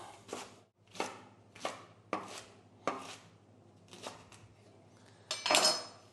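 A knife chops leeks into small chunks on a board, with about seven firm, evenly spaced chops followed by a brief scraping clatter, close and with no talking.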